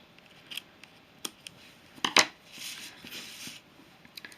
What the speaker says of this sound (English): then you can line it up so it joins, and then snip it off again